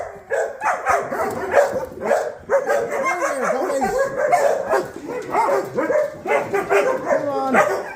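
Several dogs bark and yip excitedly in the morning as they are let out. The barks are overlapping and fairly close, mixed with higher whines and yelps, and they continue throughout.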